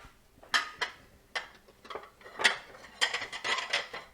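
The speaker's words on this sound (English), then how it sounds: "Stuff those 2 mushrooms." Portobello mushrooms are stuffed with a langoustine mixture, with scattered light clinks and taps of a utensil against a dish in a quiet kitchen, irregular and close.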